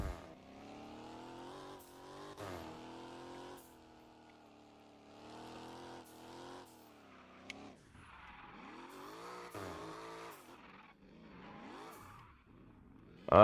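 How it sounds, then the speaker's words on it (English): A video game car drifts and spins donuts in a cul-de-sac, its engine revving and wavering in repeated rising and falling sweeps with tire squeal, steady and moderately loud with no talk. "I'm gonna do a few donuts down here in this cul-de-sac"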